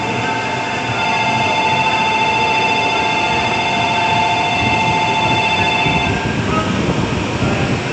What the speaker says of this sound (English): Empty train departing platform